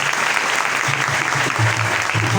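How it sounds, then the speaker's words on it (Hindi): Vigorous congregation applause at a Christian worship gathering, loud and continuous throughout, with a low hum or voice faintly underneath the dense clapping. "तो फिर जोरदार तालियां होनी चाहिए।"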